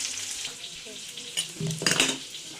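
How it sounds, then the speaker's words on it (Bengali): Chopped ginger fries in a pan with a steady sizzle, punctuated by a few scrapes and clinks of a stirring utensil against the pan, close and alone without talk. "এই সবগুলো এবার আমি একটু ভালোভাবে ভেজে নেব।"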